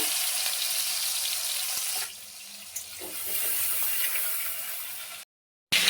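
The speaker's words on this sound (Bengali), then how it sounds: "কড়াইতে তেল দিয়েছি, চিংড়ি মাছ দিয়ে দিচ্ছি, চিংড়ি মাছটা ভেজে নেব।" Prawns fry in hot oil in a wok, making a steady broadband sizzle that softens partway through and then cuts out briefly before returning, with no talking.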